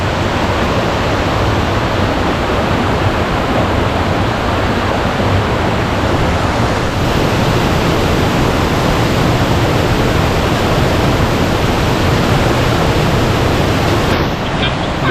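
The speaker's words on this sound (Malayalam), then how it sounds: "ആ വെള്ളം വീണ് നല്ല മിസ്റ്റൊക്കെ വരുന്നുണ്ട്. ഇത് മഴക്കാലത്താണ് ഇത്രയും ശക്തിയായിട്ട് ഒഴുകുന്നത്" A strong waterfall in full rainy-season flow at a resort in Kuttikkanam, heard as a loud, steady broadband roar of rushing, crashing water that fills the whole clip without pause, with no voices over it.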